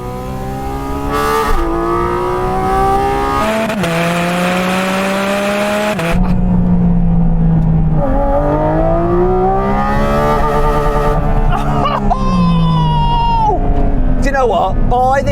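Porsche Cayman GT4 RS engine revving hard toward its top RPM, the loud, rising tones climbing and dropping between gear changes, close and dominant with a voice talking briefly over it.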